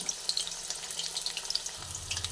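Besan-coated stuffed flat beans frying in oil in a pan crackle and pop in quick, irregular spits over a soft steady hiss, close and fairly quiet, with no voices.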